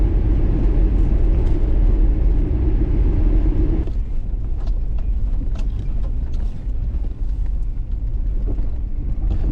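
A first-generation Ford Explorer drives along an icy, frozen river road, its engine rumbling low and steady up close, with a heavier drone at first that drops to a rougher, crunching roll.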